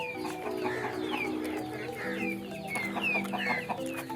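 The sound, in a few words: hens clucking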